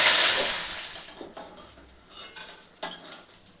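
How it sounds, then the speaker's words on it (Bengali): Bitter gourd pieces fry in mustard oil, a loud sizzle that fades quickly, followed by intermittent metal scrapes and clinks of a spatula stirring in the pan. "উচ্ছেগুলো ভেজে নেব।"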